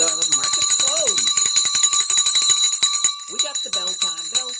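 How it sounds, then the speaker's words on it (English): The stock market closing bell rings loudly and continuously in a rapid, steady clang, while a person talks excitedly over it. "We got the bell time, bell time."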